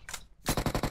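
Rapid burst of gunfire in PUBG Mobile, a short clipped shot or two and then a fast run of evenly spaced, sharp reports, loud and close.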